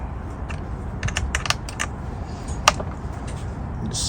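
A wrench snugs a nut down on a small two-stroke carburetor, making light scattered metallic clicks and ticks, with one sharper click standing out midway, close up and without speech.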